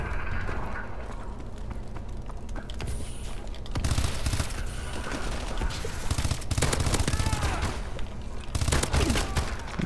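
Gunfire from pistols in the shooter Call of Duty: Advanced Warfare: dense, loud bursts of shots amid constant battlefield firing, with the intensity rising and falling in waves.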